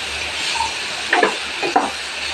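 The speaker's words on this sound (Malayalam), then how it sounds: "നന്നായിട്ട് ഇളക്കി പിടിക്കണം." Cassava pieces coated with turmeric and chili powder are stirred in a hot pan, with a constant frying hiss broken by a few short scraping strokes of the spoon.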